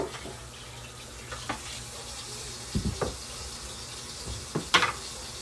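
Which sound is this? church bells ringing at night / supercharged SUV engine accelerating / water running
water running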